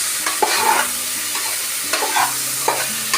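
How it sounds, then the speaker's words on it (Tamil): Tomatoes with cumin sizzle and fry in a pan while a utensil stirs them in repeated scraping strokes, close and steady, with no voices. "இந்த தக்காளி எடுத்துக்கணும், நல்லா போட்டு நல்லா சீரகத்தோட கிண்டுவாங்க"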